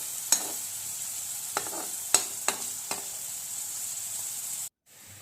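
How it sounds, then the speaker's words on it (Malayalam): Sliced onions frying with salt in a pan: a steady bright sizzle throughout, broken by four or five sharp scraping strokes of a stirring spoon, close up and without talk, ending in sudden silence. "നന്നായിട്ടൊന്ന് ഇളക്കി കൊടുക്കാം."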